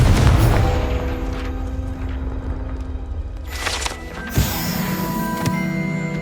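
Confringo blasting spell in the video game Hogwarts Legacy, a deep booming blast with rumbling aftermath that fades, then a sharp burst and fresh crackling impact near the end.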